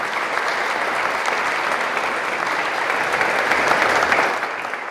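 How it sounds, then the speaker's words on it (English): A theater audience gives a full round of applause at an arts show, dense continuous clapping heard up close and loud, swelling slightly before tapering at the end. "So they deserve an enormous round of applause."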